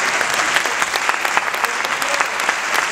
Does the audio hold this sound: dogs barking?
no